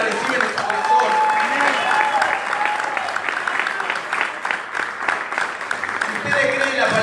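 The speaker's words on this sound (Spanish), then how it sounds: "que ustedes aplaudan si ustedes creen a la palabra y si ustedes la reciben en su corazón" A church congregation applauds during a sermon, a full, steady wash of many hands clapping that lasts throughout, with voices and some speech mixed in over the applause.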